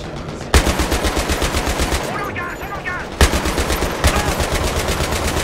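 Automatic gunfire rattles in Battlefield 3, long continuous rapid bursts with brief gaps and a sharp restart, loud and close, with possible faint voices underneath.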